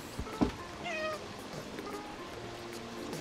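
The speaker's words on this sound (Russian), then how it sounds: "А, мяу, говорит." A cat meows in the video game Stray, one drawn-out rising meow over a low, steady background wash like flowing water in a sewer setting.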